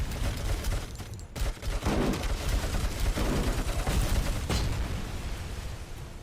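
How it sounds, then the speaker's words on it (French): Dense, loud gunfire fills a firefight in the video game RoboCop: Rogue City, with rapid overlapping shots and heavy impacts as concrete blocks are blasted apart, continuing for several seconds. "Ah, il tire 2 fois."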